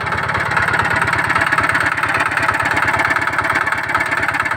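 A small engine on a rural plot near potato digging is left idling, a loud, close, steady low chugging with an even rapid pulse throughout and no talk.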